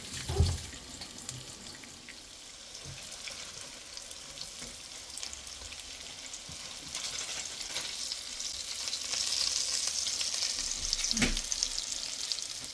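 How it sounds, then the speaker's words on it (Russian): Eggplant steaks in cheese breading fry in a pan with a steady, moderate sizzle that swells slightly toward the end, with occasional clinks and scrapes; no one speaks. "В сырной панировке обжариваем точно так же до румяной корочки."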